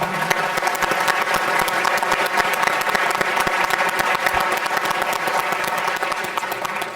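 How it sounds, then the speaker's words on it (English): A large audience at a North Carolina Senate primary debate breaks into sustained applause for troops from Fort Bragg, a dense, steady wash of clapping heard alone without talk. "Let's all give them a round of applause to show them our support"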